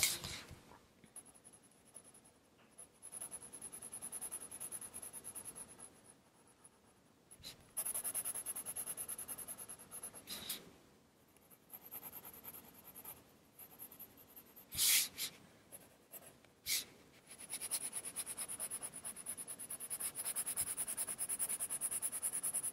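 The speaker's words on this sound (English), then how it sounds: "My chocolate pencil, and I'm bringing in a layer of the chocolate brown." Coloured pencil in chocolate brown shaded across paper, a steady close scratchy rubbing in long strokes with brief pauses, heard alone.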